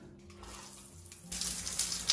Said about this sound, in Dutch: Ik ga nou eerst snel douchen